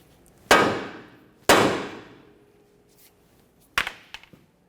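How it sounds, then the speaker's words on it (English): A hammer strikes the steering knuckle of a 1994-1997 Honda Accord to free the upper ball joint. Two loud ringing metal blows are followed by a few lighter clanks, close up and without talk. "Continue on with a hammer. We're going to tap on this area of the knuckle to break this free."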